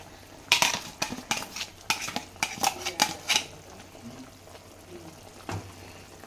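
Chilli chicken being stirred with chilli masala in a pan: a run of close scraping, clinking spoon-on-metal strokes in quick irregular bursts, then a pause and one final clatter, with no talk.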